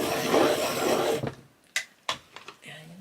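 A colored pencil in powder blue is sharpened with a dense, continuous rasping grind for about a second, followed by a few sharp, brief knocks and faint handling sounds.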